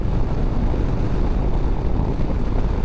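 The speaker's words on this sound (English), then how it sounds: "let's see how we got for passing power. 6th gear," Steady roar of a motorcycle bagger pulling hard in 6th gear to pass, a Harley-Davidson Street Glide or Indian Chieftain 112, carried under loud continuous wind rush with no talk.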